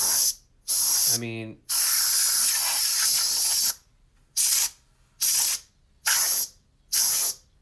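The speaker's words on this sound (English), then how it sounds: "I'm gonna try to blow this out with some compressed air now. I'm gonna go in through the grill." Compressed air sprayed through the grill of a PS4 console to blow out dust: loud hissing bursts, one long blast and then four short evenly spaced spurts, with a brief ratcheting rattle early on and a few words spoken.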